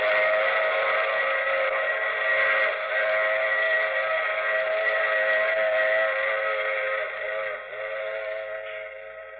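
A steady, sustained whistle from a passenger train, held loud and close for the whole stretch as a sound effect in a 1951 radio drama, with its pitch slowly sagging and fading slightly toward the end.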